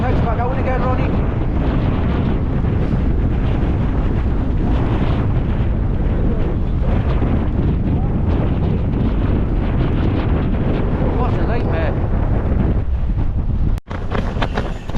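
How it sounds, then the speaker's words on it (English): Strong, gusting stormy wind batters tents at an exposed campsite, a loud continuous roar buffeting the microphone throughout, with a brief drop in the gusts near the end. "this wind's getting worse"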